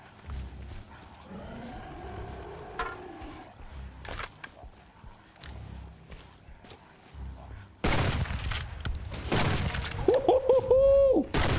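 Video-game gunfire against a zombie in a new zombie shooter, with scattered shots, roars and bursts of effects, turning louder and denser in the second half.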